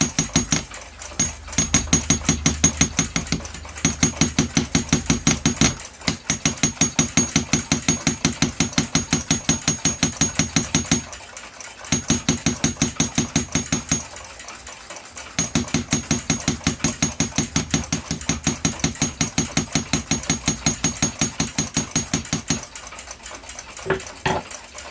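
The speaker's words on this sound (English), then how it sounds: "to finish the rivet curl over, I spin the punch on the balance arm" A metal punch taps a rivet on the balance arm of a Waltham 12-size pocket watch, seating it on the balance hub: rapid, steady, close ticking runs in long bursts separated by brief pauses.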